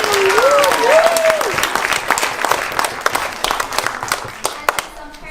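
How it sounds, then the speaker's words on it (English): A crowd of children and adults at a youth creative event claps and cheers loudly and close by. A voice calls out over the start, and the applause thins into scattered claps and chatter. "So let's give a big round of applause to all of those."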